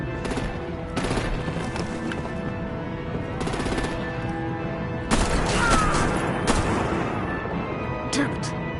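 Bursts of rapid gunfire and artillery in the Batman: The Enemy Within game, several loud volleys separated by brief pauses, with the heaviest barrage in the second half and voices mixed underneath.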